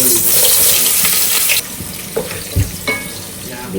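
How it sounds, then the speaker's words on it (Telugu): Chopped onions hit hot oil with a loud burst of sizzling that cuts off sharply, followed by quieter frying, a few clanks and stirring scrapes. "ఆనియన్ ఫ్రై అవుతుంది"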